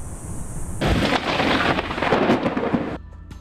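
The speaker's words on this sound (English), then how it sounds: "Take a look at this impressive lightning storm last month at the start of the monsoon." Monsoon thunderstorm in Tucson: a loud, close thunder crack breaks into a long rumbling roll over steady heavy rain, then cuts off abruptly.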